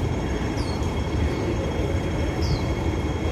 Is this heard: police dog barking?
no